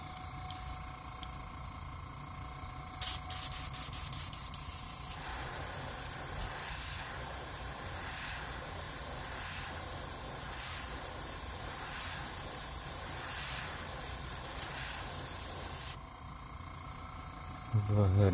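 Airbrush spitting a little cleaner while painting an MB S crankbait lure, a steady close hiss lasting most of the stretch with a short sharper burst near the start, under occasional talk.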